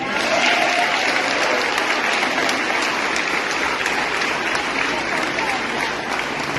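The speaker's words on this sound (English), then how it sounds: "Can we give applause to God?" An audience at a gathering gives sustained, dense applause, a loud, even wash of many hands clapping together that holds steady for several seconds, with a hint of crowd voices mixed in.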